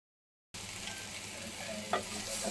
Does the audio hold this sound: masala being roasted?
yes